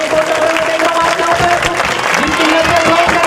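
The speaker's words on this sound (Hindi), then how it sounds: "चलो ताली बजाओ।" A Sunday church congregation claps along in worship, loud and continuous with a steady patter of many hands, mixed with voices and a sustained tone running underneath.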